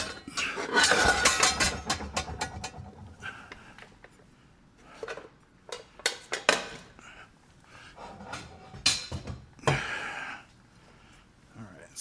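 Metal clanks, clinks and scrapes come from a skillet being handled in a home kitchen, a burst of clatter early on followed by scattered knocks and rattles, with breathy sounds and occasional talk between.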